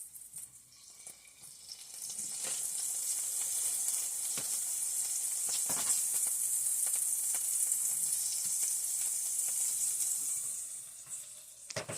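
A turkey burger fries in a pan with a bright, steady sizzle that swells and holds, broken by a few scraping taps of a spatula, then fades near the end.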